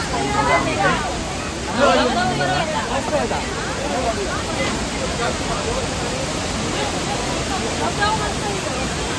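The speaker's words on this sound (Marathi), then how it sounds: "Welcome to Mangeli waterfall." Mangeli waterfall roars as a steady, broadband wash of falling water, with a crowd of visitors talking and calling nearby over the rush.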